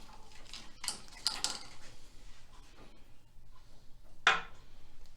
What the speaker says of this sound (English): Get out the baking pan, drain pan.